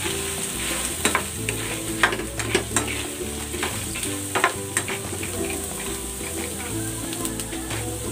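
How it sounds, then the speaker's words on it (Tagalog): Fried tofu goes into a hot pan and is stirred, giving a continuous oily sizzle punctuated by sharp clinks and scrapes of the utensil against the pan, close and moderately quiet. "Ilalagay ko na dito itong prinito nating tokwa."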